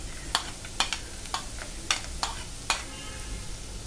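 Capsicum, cabbage and carrot sautéing in a pan with a low steady sizzle, broken by several sharp spatula clicks and scrapes at irregular intervals.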